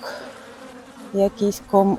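Bees and other insects buzz around aster flowers in a garden, with a faint hum at first, then three short, louder buzzing passes close to the microphone near the end.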